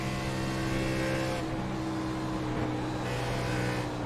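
A race car engine drones steadily through a corner in a sim race at Kansas Speedway, with a brief dip in pitch from a quick clutch, close and continuous.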